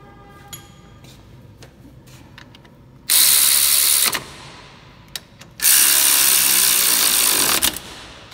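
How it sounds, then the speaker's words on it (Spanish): A hand ratchet tightens two bolts on the brakes of a 2015 Nissan Tiida during a pad change, with a few light clicks first and then two loud, sustained bursts of rapid ratcheting separated by a pause. "Momento de apretar sus dos tornillos."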